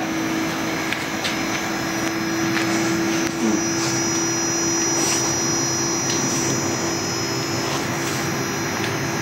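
A repaired Sharp air conditioner compressor, which had not been working and may have lost refrigerant through a leak, runs with a steady, loud, close drone and a constant low hum, with no talking.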